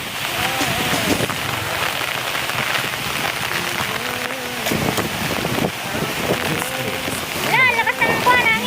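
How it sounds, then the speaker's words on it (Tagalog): Rain falls steadily on a windy rainy day, a constant hiss of drops on surfaces with voices talking over it throughout. "Umulan dito"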